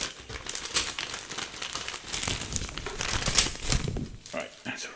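A plastic bag from a 1/48 Fly Models Jet Provost kit crinkles and rustles as it is opened by hand, close and fairly quiet, in quick irregular bursts, with someone talking at the same time.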